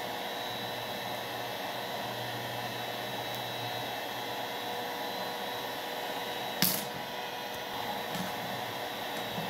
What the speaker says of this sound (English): Control the hair dryer.